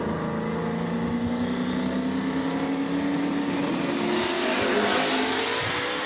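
A drag race car accelerating down the strip at a street-tire drag racing event, a loud continuous engine roar with a rising pitch sweep as it pulls away, no talk.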